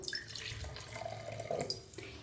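Tap water runs and splashes steadily into a container for a demonstration of mixing water with table salt, close and fairly quiet, with no talking.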